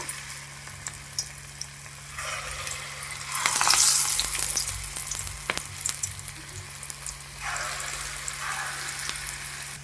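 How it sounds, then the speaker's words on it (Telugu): Small rice flour fritters sizzle steadily as they fry in hot oil, a continuous crackling hiss that swells loudly in bursts as batter drops in, with no talking. "ఇప్పుడు నూనె కాగిందేమో చూద్దాము. నూనె అయితే వేడైపోయిందండి. ఇప్పుడైతే చిన్న చిన్న పునుగుల్లాగా వేసుకోండి"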